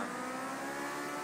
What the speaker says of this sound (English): Sounds like an American engine.